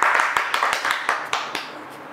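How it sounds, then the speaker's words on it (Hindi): Crowd clapping at a Tuc biscuit eating contest, a run of uneven, fairly close hand claps spread across a couple of seconds over a busy background. "तालियां जरा पैसे के लिए बजा दे भाई"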